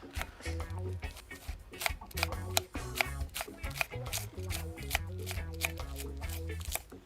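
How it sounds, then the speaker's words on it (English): A knife rapidly chops lettuce on a board while a crayfish wrap is prepared, a close, brisk run of crisp rhythmic cuts that continues throughout. "So we are now cutting up the lettuce."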